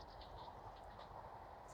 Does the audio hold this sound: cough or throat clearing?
no